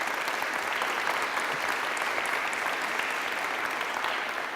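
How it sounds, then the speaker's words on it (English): An audience at an academic talk applauding a colleague, a dense, steady clapping of many hands filling the room without pause, fairly loud and even throughout. "I would like everybody to give a big applause to João"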